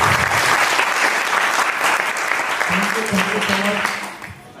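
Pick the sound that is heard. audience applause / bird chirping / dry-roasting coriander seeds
audience applause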